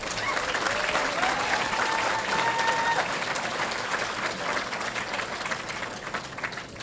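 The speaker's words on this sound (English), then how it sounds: "That's worth clapping about." Audience applause at an awards ceremony, a sustained, even wash of many hands clapping in a hall, steady in level with a faint tone running briefly through it.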